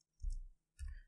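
A computer keyboard is typed on, a few soft close keystrokes in two quick bursts, faint and alone with no talk.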